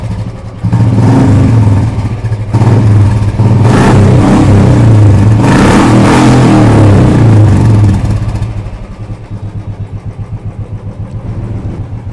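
A 2015 Royal Enfield motorcycle in good condition runs loud and close, revving steadily for several seconds before dropping to a chugging idle.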